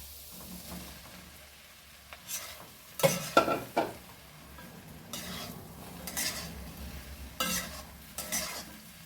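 Cut pieces of leftover idli tossed in a frying pan, a few distinct scraping and clanking stirs of a spoon against the pan over a faint background sizzle, quiet in between and no voices.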